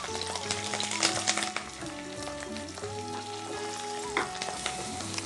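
Onions frying in a pan with a constant bright sizzle while a spoon stirs and scrapes at intervals, under a steady tonal background hum; no talking.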